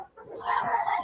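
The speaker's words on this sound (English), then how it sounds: "I'm going to have to put the dogs in the other room." Dogs indoors bark and yip, a short burst of loud, close barking rising after a brief lull.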